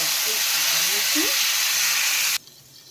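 Hot oil tempering of mustard seeds, curry leaves and dried red chillies sizzles loudly as it hits raw Rayalaseema-style pacchi pulusu, a steady close hiss that cuts off abruptly near the end.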